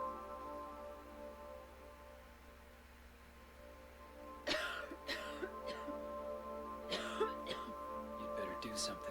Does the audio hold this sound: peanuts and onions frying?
no